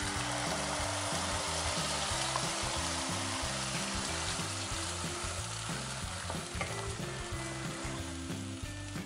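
Ground masala frying in oil with fenugreek seeds and asafoetida for Goan pineapple bhaji, a loud steady sizzle with stirring scrapes, close and continuous without talk.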